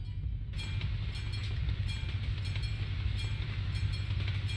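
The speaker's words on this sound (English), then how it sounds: "I hear a train." A train rolls past in Euro Truck Simulator 2, making a steady, loud rumble with rhythmic clicks and rattles from the wheels throughout.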